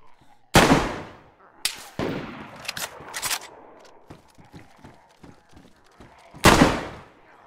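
M300 Praetorian rifle shots in the video game DayZ: three loud, sharp reports spaced apart, with smaller cracks and clicks in between and a voice talking briefly.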